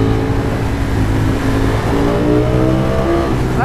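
A Ducati Streetfighter V4S motorcycle accelerates hard, its engine rising loud and close in a continuous climbing whine through several gears, with no talk over it.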